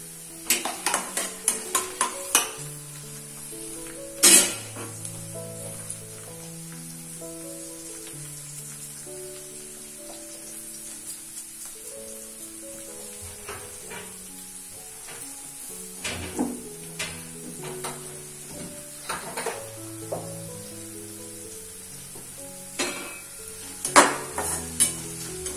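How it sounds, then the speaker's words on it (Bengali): Quinoa fried rice is stir-fried in a pan, with quiet sizzling, frequent sharp clinks and scrapes of a spatula against the pan, and soft tonal ringing from the utensils, with no talking. "কিনোয়া ফ্রাইড রাইস বানাচ্ছি,"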